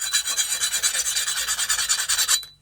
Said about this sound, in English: I'm going to take just a normal metal file